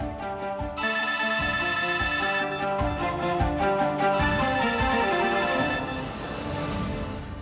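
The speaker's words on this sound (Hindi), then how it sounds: "आ गया ऊपर वाले का फोन।" A telephone rings in a Hindi TV drama scene, a loud repeating electronic ringtone melody in bursts lasting several seconds, heard alone without speech.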